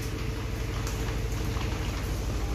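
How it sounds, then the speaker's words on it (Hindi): Steady heavy rain pattering on a surface and filling plant pots, a dense continuous patter with a low rumbling undertone and no voices. "बहुत तेज़ तो नहीं हो रही लेकिन अच्छी बारिश हो रही है अभी।"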